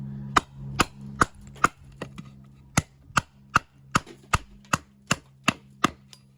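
A dozen sharp, evenly spaced chopping strikes of a bushcraft knife, close and loud, a steady rhythm of blade hitting wood over a low background hum.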